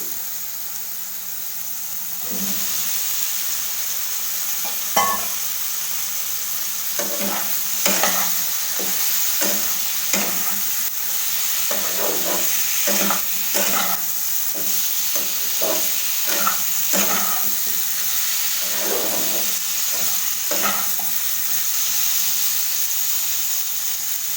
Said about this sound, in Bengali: একটু ঘন ঘন নাড়তে হবে যাতে মশলাটা না লেগে যায়।